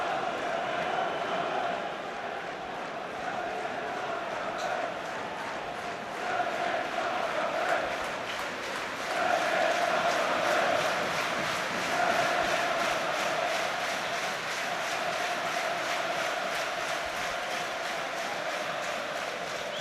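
A large football stadium crowd at a Hull City v Millwall Championship play-off semi-final gives a continuous distant roar and murmur with faint chanting swells, and no close talk.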